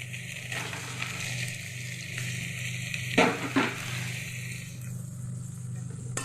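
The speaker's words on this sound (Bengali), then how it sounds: "এখানে আমার পেঁয়াজ রসুনটা ভাজা হয়ে গেছে। প্রথমে কিন্তু সবার প্রথমে আমি চিকেনটা দেব।" Chicken hitting a pan of fried onion and garlic raises a steady close sizzle, with a couple of brief louder crackles and stirring knocks midway, no voices.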